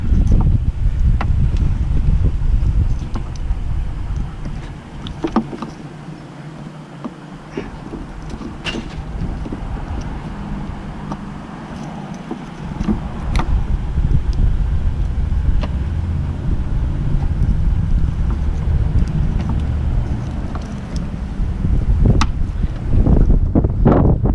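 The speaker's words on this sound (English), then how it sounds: "There's the wind again." Gusty wind buffets the microphone outdoors during a headlight replacement on a 2008 Pontiac G6, a loud, continuous low rumble that dips briefly midway and then surges again, with no talking.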